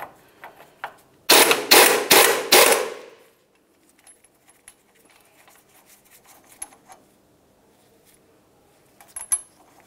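A 24mm socket on a ratchet loosens the lower ball joint nut of a 2000-2006 Chevy Tahoe. Four quick, loud ratcheting bursts sound close by, followed by faint clicks and small metallic handling noises.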